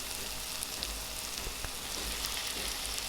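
A kilo of cleaned chicken pieces, including leg pieces, hits a pan of cooked masala and sizzles in a soft, continuous crackle with scattered small pops, heard up close and fairly quiet with no talking.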